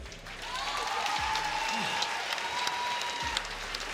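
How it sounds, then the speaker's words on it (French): An arena crowd at an MMA event gives a steady wash of applause that lasts throughout, with a faint voice and a low hum underneath. "C'est fou, on peut l'applaudir."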